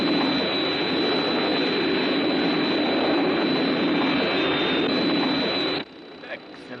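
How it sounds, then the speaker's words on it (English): A jet aircraft approaching in a Thunderbirds scene, a steady loud roar with a high whine that holds for nearly six seconds and then cuts off abruptly, leaving a quiet tail. "Hey, I hear an aircraft."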